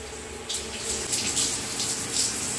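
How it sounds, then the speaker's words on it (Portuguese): Water is thrown across a bathroom floor and toilet during cleaning, giving a steady rushing, splashing wash that swells after the first half second and continues at moderate level with no talk. "dando uma limpada aqui no chão, na privada, né, jogando uma água."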